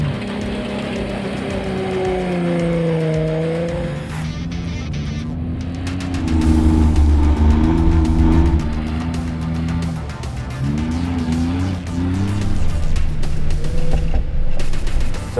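A Jeep Wrangler engine revs and drones while driving on sand dunes in two-wheel drive without the rear locker, the pitch rising and falling with throttle changes, loud and close throughout.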